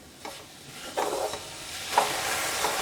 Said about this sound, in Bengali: এইভাবে লো ফ্লেমে গুড় আর নারকেলটাকে একটু নেড়ে চেড়ে রেডি করে নিতে হবে, যতক্ষণ না গুড়টা একটু গলে যাচ্ছে